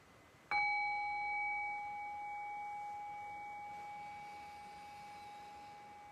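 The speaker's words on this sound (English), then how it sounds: "I'll ring the bell and I'll guide us in" A meditation bell is struck once, a clear close ding that rings out into a long, pure, slowly fading tone against quiet room hiss.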